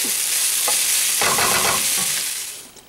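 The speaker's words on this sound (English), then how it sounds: "I like to brown it just a little bit, so it doesnn't look like you just boiled your meat." Meat browning in a pan for Filipino pancit, a loud close sizzle with bursts of scraping and stirring that fade toward the end.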